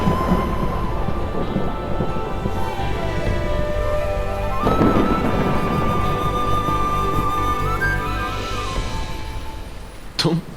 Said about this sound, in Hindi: बाहर बहुत तेज बारिश होने वाली है